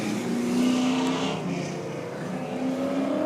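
A first-generation 1969 Chevrolet Camaro at an autocross event at Lake Elsinore, its engine roaring steadily at high revs as it powers through a chicane, loud and continuous.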